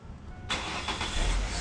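A car engine cranks and fires up during a battery starter test with the battery at 13 volts, a sudden loud start that settles into a steady running roar.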